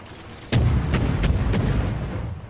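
Battleship main guns fire in World of Warships: a sudden heavy boom followed by three more sharp reports in quick, uneven succession over a dense rumbling low roar, loud and close, with no talking.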